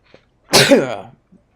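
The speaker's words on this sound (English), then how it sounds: "I'm like a sneezing fit all of a sudden." A single loud, close sneeze erupts after a brief silence, with a sharp burst that trails off into a voiced exhale.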